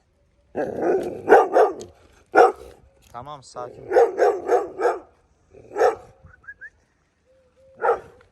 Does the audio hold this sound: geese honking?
no